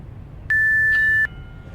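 A workout interval timer sounds a single steady electronic beep lasting under a second, loud and clear over a low background hum.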